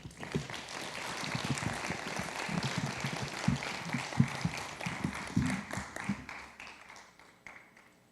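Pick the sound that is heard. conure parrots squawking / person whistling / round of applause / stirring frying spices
round of applause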